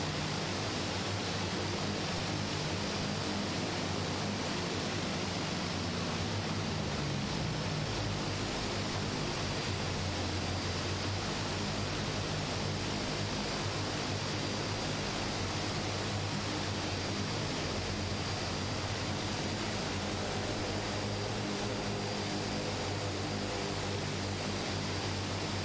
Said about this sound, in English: He's going for a full and frank flyby.